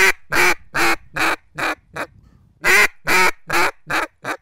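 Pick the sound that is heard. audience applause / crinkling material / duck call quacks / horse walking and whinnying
duck call quacks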